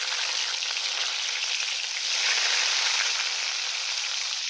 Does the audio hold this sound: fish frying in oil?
yes